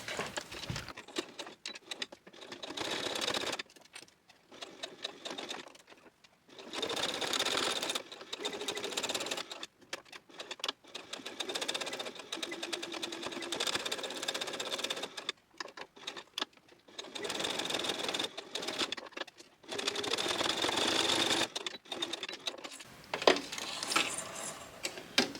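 A sewing machine stitches around a small fabric key fob in several bursts of rapid close mechanical whirring, separated by short pauses.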